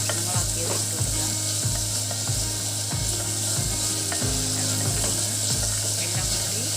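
Tomato sautéing in a pan with other ingredients, a steady loud sizzle broken by regular scraping clicks of a spoon stirring against the pan, no voices.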